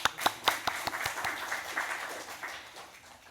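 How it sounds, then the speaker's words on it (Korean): A church congregation claps during a sermon, starting with a few sharp, distinct hand claps that merge into a brief, moderate round of applause in a reverberant hall. "우리 엄마들을 위해서 박수 한번 보내주세요."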